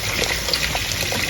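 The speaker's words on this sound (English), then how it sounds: "Now go ahead and add some water from the kettle." Hot water poured from a kettle into a cooking pot for coconut rice, a steady close splashing gush that continues without a break.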